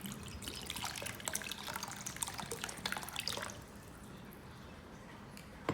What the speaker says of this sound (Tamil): இனி நான் இதுக்கு அளவான தண்ணி சேர்த்துக்கொள்ள போகிறேன்